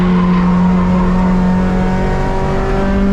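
Race car on Sepang Circuit braking in third gear, a loud steady engine drone with a held tonal whine throughout, close and constant.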